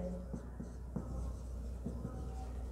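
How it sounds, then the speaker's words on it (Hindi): Chalk or marker writing on a board in a Hindi literature lecture: soft, close scraping strokes and taps repeating in short bursts over a steady room hum. "देखो लिखते हैं यहाँ पर"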